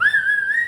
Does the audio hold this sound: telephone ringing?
no